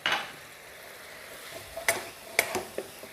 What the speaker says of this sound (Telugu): సాస్ బాయిల్ అవుతుంది